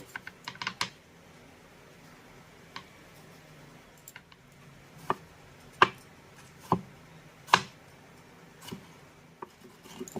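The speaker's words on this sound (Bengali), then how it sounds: "পাকা টমেটো দুটোকেও আমি একই রকম ভাবে একটু কুচিয়ে নেব" A knife chops two ripe medium tomatoes on a board for dal tadka: a quick cluster of taps at the start, then sparse, irregular, moderately close knocks with pauses between them. No one speaks.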